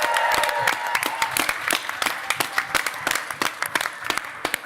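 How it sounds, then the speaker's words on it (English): Audience at a costume masquerade applauding the costumers, a dense burst of clapping that thins into scattered individual claps, fairly close and alone with no talk. "Let's give them another round of applause."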